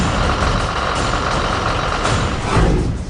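A truck engine runs at night in Raipur, Chhattisgarh, with a steady, loud, close rumble throughout and no talk.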